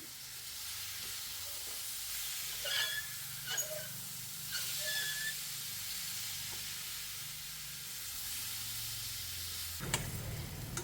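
Cooked jackfruit seeds stir-fried with coconut in a pan, a steady soft sizzle and hiss with a few scraping stirs, continuous and moderately quiet with no voices.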